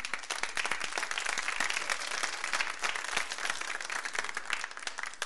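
A live audience claps steadily and densely for several seconds at a 1992 Lola Beltrán television appearance with Verónica Castro, the applause even and sustained with no voices on top.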